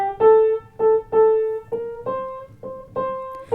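Piano eighth notes played in a swing rhythm: about eight clear, close notes in long-short pairs, each pair with a held first note, rising slightly in pitch toward the end.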